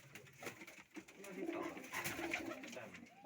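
Pigeons coo softly in a backyard near a shed, a low faint burbling that runs throughout while someone talks over it.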